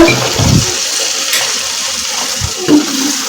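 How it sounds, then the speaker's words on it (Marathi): Water is poured into dry masala in a pan while cooking Kolhapuri misal, giving a short watery splash and sizzle, moderately loud and close, with a brief second splash near the end. "मसाला थोडासा कोरडा वाटत आहे तर याच्यामध्ये मी थोडस पाणी घालते"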